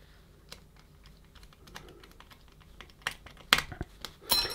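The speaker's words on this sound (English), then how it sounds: "Now we need to do the four screws up." Small sharp clicks and light taps of a screwdriver working four screws into a Eufy RoboVac 11s robot vacuum cleaner during a rubber tyre change, sparse at first and then denser and louder toward the end, close by with no talk.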